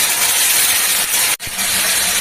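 Dried red chillies and panch phoron spices sizzle in hot oil in a pan: loud, continuous, bright hiss that stays close and steady, with one brief dip in the middle before it resumes.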